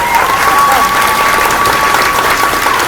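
An audience at a school district board of education meeting claps after a list of names is read, a loud, dense and even burst of applause close by, with a thin steady tone running through it.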